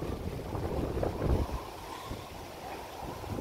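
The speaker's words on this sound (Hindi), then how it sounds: "आज बहुत तेज हवा चल रही है।" Strong wind blows in steady, rushing gusts with heavy low buffeting against the microphone, swelling briefly near the middle before settling into a constant roar.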